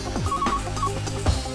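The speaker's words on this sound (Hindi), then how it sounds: "फोन लगा।" A telephone rings in short repeated electronic tones over a steady low hum, with faint background sound around it and no talking.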